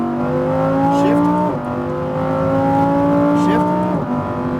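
A Lamborghini Huracan STO accelerating on the Las Vegas Speedway race track, its engine note climbing steadily through the gears with a short dip at each shift, loud and close, with a voice talking over it.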